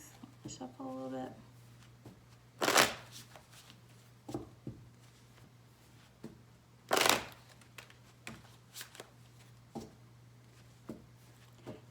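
Tarot cards riffle and slap together in a couple of sharp bursts as they are shuffled, with softer handling noises between them and a low steady hum underneath.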